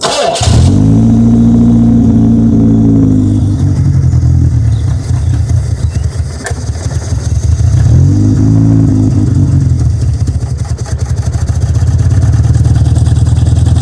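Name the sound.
old British car engine being cranked and revving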